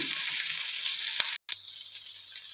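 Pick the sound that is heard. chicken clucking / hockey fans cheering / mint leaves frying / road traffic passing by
mint leaves frying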